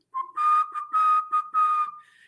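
A whistled tune rings out in clear, close phrases, three sustained whistled notes with short breaks between them, alone without any talking.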